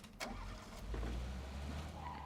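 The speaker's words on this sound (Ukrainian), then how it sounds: "Так, заводимо Жигуля." A Zhiguli car engine starts up in the PUBG video game, a short cranking burst that settles into a steady low engine rumble, fairly loud and close, with no talk.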